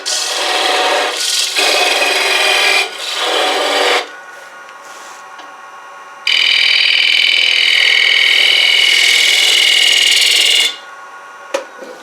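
Wood being cut on a lathe while shaping a heart-shaped bowl: a loud, steady rasping and rubbing cut runs in long bursts, first to about four seconds and again from six to ten and a half, with quieter pauses between and no talk.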